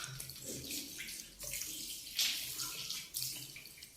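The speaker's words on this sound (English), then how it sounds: "we're now washing the sink." Tap water runs and splashes while a bathroom sink is washed, flow rising and breaking with brief sharper spatters and handling noises, fairly faint, no talking.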